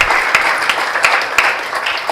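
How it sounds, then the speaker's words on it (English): A loud round of audience applause fills an awards opening speech, with dense, steady clapping throughout. "So round of applause for you doing that constantly."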